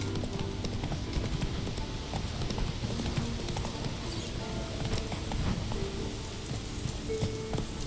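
Hooves of the horse Roach from The Witcher 3 pound in a fast, even galloping rhythm, moderately loud and unbroken, with a rain-like patter mixed in and no talk.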